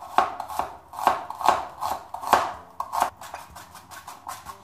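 An onion being chopped finely with a knife on a board, a steady run of crisp, close knocks about two or three per second, alone with no speech.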